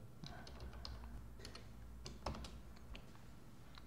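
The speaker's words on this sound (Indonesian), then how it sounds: "Coba kita mengetik atau menampilkan hello world." Typing on a computer keyboard, quiet, steady key clicks in an uneven stream with one slightly louder tap, with no talking.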